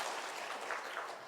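Church congregation clapping to welcome visitors during a Sunday service, a soft, steady wash of scattered claps that stays faint and distant throughout.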